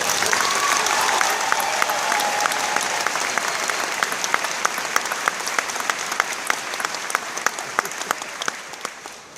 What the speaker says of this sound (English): give yourselves not a golf clap, but a big round of applause for your achievement here today